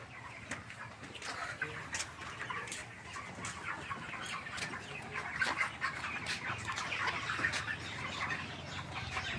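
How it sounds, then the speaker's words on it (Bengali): Chickens on a small poultry farm cluck and chatter continuously, with many birds at moderate distance and sharp calls scattered over a busy, steady backdrop. "চলুন যাই দেখি আপনার কীভাবে মুরগি পালতেছেন বিক্রি করছেন"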